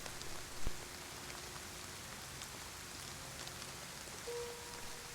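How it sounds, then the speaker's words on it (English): Steady rain in a role-playing video game patters evenly across surfaces, a constant soft hiss with a couple of faint knocks and no talking. "the rain sound effect, like, comes with other sound effects"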